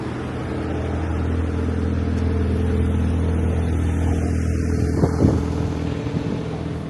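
A Porsche drives past on a sunny Osaka street, its engine a steady mid-pitched roar that swells slightly toward the end, with city ambience around it.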